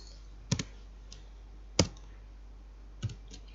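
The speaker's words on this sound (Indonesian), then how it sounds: "yang berikutnya adalah dengan menekan tombol F2 pada keyboard" Computer keyboard keys pressed one at a time, three sharp, separate clicks spaced about a second apart, close and fairly clear over a quiet background hum.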